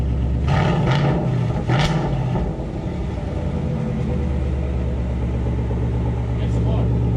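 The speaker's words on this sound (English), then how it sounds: "Give it a little rev." A Ford Mustang GT fitted with an MBRP Pro Series active cat-back exhaust, valves opened, rumbles at a close, loud idle with a few short throttle blips early on and people talking nearby.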